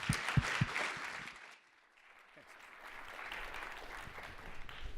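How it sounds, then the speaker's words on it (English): Applause at a tech conference session on IoT strategy: the room claps at first, fades into near quiet, then picks up again as scattered clapping and murmur, with a voice speaking over it. "if you can give a warm round of applause for John"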